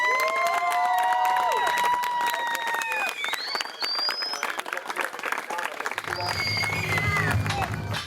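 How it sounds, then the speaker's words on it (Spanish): An audience applauds for two filmmakers who finished their film, dense clapping and cheering shouts mixed together, sustained throughout, with voices talking beneath. "Quiero pedirles un fuerte aplauso al señor Luis García y a José Pesini que terminaron hoy la película."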